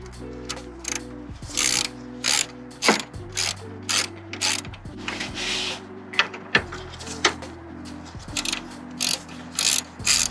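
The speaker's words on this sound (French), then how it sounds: "on va prendre la clé de 10." A 10 mm ratchet wrench undoing screws on a Renault Megane 3 headlight unit, with rapid clicking pawl runs in repeated bursts and brief pauses between them, close up and alone without talk.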